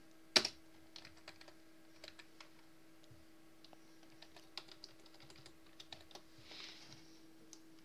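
Keys tapped on a computer keyboard in scattered, uneven clicks after one sharper knock at the start, quiet and close, with a faint steady hum underneath.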